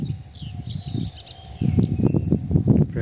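A mother bird calls near her nest with repeated short chirps, against a steady high insect or cricket drone and some rustling outdoor noise.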